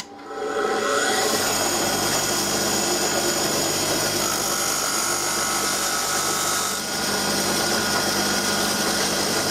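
A stick of chalk pressed against the side of a spinning grinding wheel in a forging workshop makes a loud, continuous abrasive whir that holds steady for several seconds.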